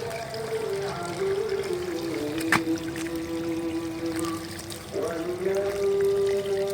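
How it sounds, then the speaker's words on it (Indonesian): Water poured onto bonsai soil to soften it, a steady trickle and pour with a dribbling, bubbling tone and one brief louder splash partway through. "jadi kenapa harus kita siram dulu agar tidak putus ini, agar tanahnya bisa menjadi empuk ya dan mudah dibongkar"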